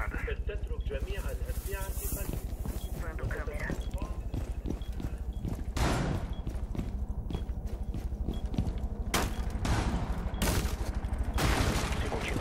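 Gunfire in the video game Rainbow Six Siege: several sharp, loud shots crack out in scattered bursts amid busy in-game clatter and movement noise, with players talking over the action.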